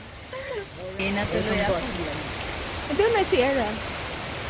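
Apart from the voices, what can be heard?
rain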